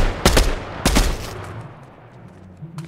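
Gunfire in the horror video game Horror Backrooms: two loud bursts of rapid shots, close and punchy, each fading into a low rumbling tail, with no voices during the shooting.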